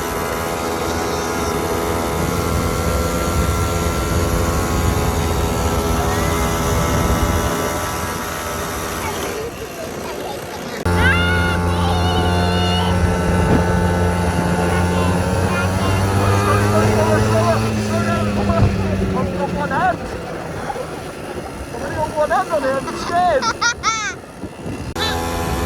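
A quad bike engine while riding, a loud steady drone that cuts out briefly then returns with rising and falling pitch, close up, with people talking over it.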